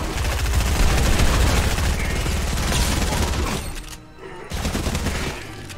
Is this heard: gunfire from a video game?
yes